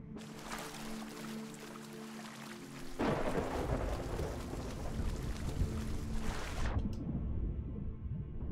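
Heavy rain and thunder in a pirate sailing video game, a steady downpour that suddenly swells into a loud crackling lightning strike and rumbling roar, then cuts off into quieter ambience.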